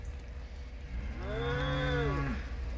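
A cow lets out one long, clear moo of about a second on a homestead, rising and then falling, heard close and alone over quiet outdoor background.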